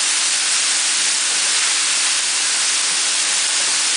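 Ground beef patties sizzling in an oiled pan on a burner, a steady, dense hiss that stays loud and even throughout with no voices.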